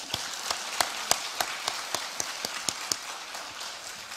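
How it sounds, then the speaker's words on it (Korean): A Korean church congregation claps in a loose, uneven patter, with sharp individual claps standing out over a softer wash of clapping at moderate volume. "자, 우리 모두 박수 한번 하십시다"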